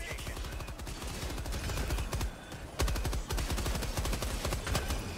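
Dense automatic gunfire from a weapon in the video game Helldivers II, fighting automaton enemies. A rapid, steady stream of close shots runs through the whole stretch with hardly a break, with some speech over it.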